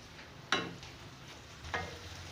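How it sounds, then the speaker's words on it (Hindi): Onions browning in a pan for beef biryani, with a low, faint sizzle broken by two sharp stirring scrapes about a second apart. "चलिए मैं ये प्याज ब्राउन करती हूँ"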